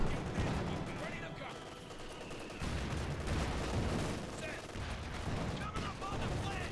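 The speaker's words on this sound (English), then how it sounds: "Shot fired, missed, and then they cleared out." Gunfire in the Company of Heroes 2 strategy game, a Wehrmacht versus US Forces match: scattered shots and bursts crackle fairly steadily through a busy battlefield bed, with a commentator's voice talking over much of it.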